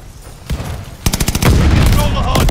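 Rapid automatic gunfire in Call of Duty: Vanguard on PS5, a loud close burst of rhythmic shots swelling into dense sustained firing, with a voice talking over the action.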